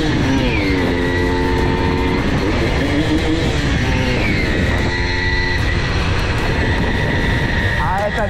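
Engine roaring during a police chase involving a Simson moped: a loud, sustained droning tone with wavering pitch changes, recorded amid steady wind or road noise, with excited voices talking over it.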